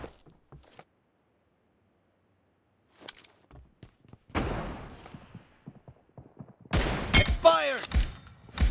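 Single M24 sniper rifle shots in BGMI team deathmatch, sharp isolated cracks separated by quiet gaps, followed by a denser burst of game sounds near the end, with brief talk in between.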